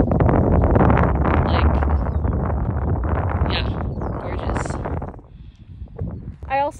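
Gusty wind buffets the microphone outdoors on a sunny day, a loud low rumble that dominates most of the clip and eases near the end, with a voice speaking over it.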